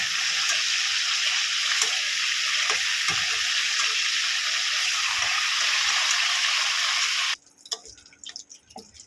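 Chicken pieces fry in hot oil in a pan, giving a steady, loud broadband sizzle with small pops for about seven seconds before it suddenly drops away to quiet clinks.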